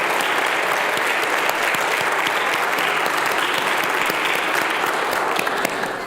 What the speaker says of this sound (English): Can we give another big round of applause for everybody that shared their gifts today?